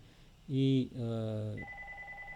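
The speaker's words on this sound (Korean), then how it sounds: "전화가 또 잠깐 들어 있었습니다" A telephone rings nearby in two short electronic bursts, followed by a steady higher tone, heard faintly in a quiet room.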